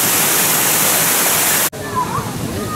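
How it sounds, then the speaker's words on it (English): A zoo waterfall beside an otter statue pours as steady broadband rushing water, loud and close, then cuts off abruptly and leaves quieter outdoor ambience with faint birdsong. "there's a beautiful waterfall"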